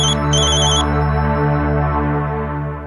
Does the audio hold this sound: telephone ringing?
yes